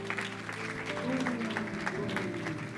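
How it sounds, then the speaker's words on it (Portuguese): Congregation applauding at the close of a Portuguese-language church service, clapping mixed with a sustained musical tone and some voices, moderately loud and steady. "Uma salva de palmas, Senhor Jesus, porque Ele merece"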